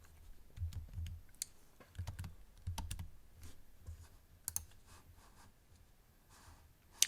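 Arrow keys on a computer keyboard give a few sparse, quiet clicks and taps, spaced irregularly over several seconds, with a louder isolated click near the end.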